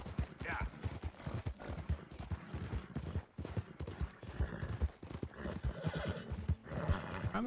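Hooves clip-clop in a steady galloping rhythm in the video game Red Dead Redemption 2, with a horse neighing over it and a faint background of other sounds.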